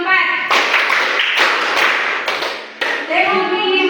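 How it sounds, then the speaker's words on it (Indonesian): A class of students claps their hands together in a counted rhythm, with several bursts of clapping separated by short pauses. "Mulai tepuk 1, tepuk 2, tepuk 3, tepuk 4,"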